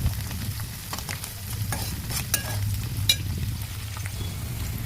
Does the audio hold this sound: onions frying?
yes